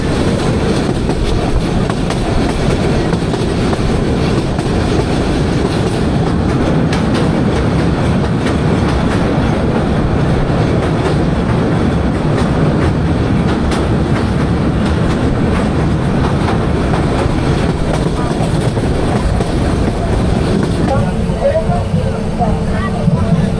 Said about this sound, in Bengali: আর আমরা ডান দিকে বেঁকে যাচ্ছি আখাউড়া চট্টগ্রাম রেলপথ ধরে